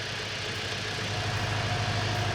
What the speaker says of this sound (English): Now, actually we'll keep the engine running until they're needed in a minute.